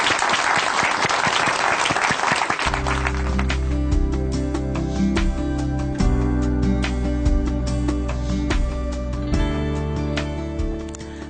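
A church audience in Chuncheon applauds someone speaker coming up to share her testimony; loud, dense clapping fills the opening seconds, then sustained piano-like music with steady chords continues as the applause fades beneath it.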